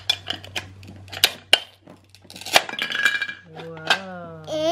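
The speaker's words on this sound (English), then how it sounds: "what are you cutting next? Green pepper." A toy knife clacks and taps against a toy green pepper in a cluster of sharp plastic clicks and knocks, mixed in with an adult's voice and a toddler's voice talking.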